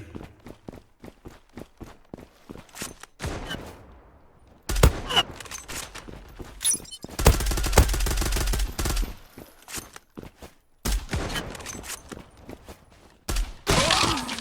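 Gunfire from the shooter game Zula comes in bursts of rapid automatic shots and single cracks, close and loud, mixed with footsteps and some impacts. The bursts come in clusters broken by short quieter gaps.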